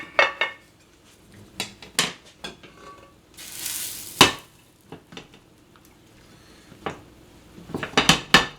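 A pot used for a chicken dish being rinsed out while cooking gumbo: scattered close clanks and scrapes of metal utensils against the pot, a brief rush of liquid midway, then a quick cluster of clatters at the end.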